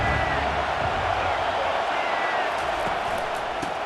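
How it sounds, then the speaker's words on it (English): A dense, continuous roar from a large college football stadium crowd during an SMU vs Penn State playoff game, loud and sustained throughout with no breaks. "listen to this crowd roar"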